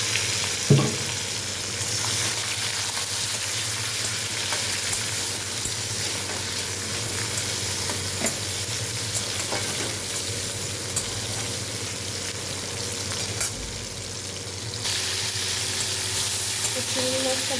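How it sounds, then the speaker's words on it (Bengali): Shrimp fry in hot mustard oil with dried red chili and garlic, giving a steady, close sizzle with occasional stirring clinks throughout. "চিংড়ি মাছটা ভাজা হয়ে গেছে, খুব বেশি ভাজলাম না, একটু নরম নরম ভাজা।"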